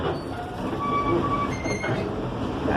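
Aboard a SAM Shortline passenger train at Cordele Railfest, a moving car rattles and shakes with a constant low rumble, clattering wheels and brief metallic squeals, heard up close from inside the car.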